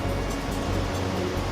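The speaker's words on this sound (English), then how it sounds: "You guys can hear this with the waterfall" A waterfall pours near a cave at dusk, a broad, steady rushing roar that fills the space evenly and continues without a break.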